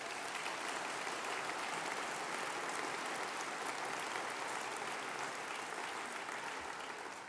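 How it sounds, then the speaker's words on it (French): A crowd at a thank-you reception honouring Alain Berset applauds continuously, a broad sustained wash of clapping heard at some distance, fairly soft and without speech over it. "Je crois qu'on peut aussi les applaudir"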